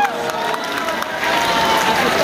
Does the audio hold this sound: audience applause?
yes